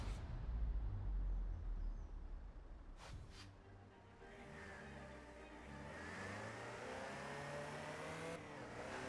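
A Land Rover Type 3 drives in Forza Horizon, its engine note rising and falling as it revs and accelerates, with a low rumble and a brief tire squeal, heard alone and at moderate loudness.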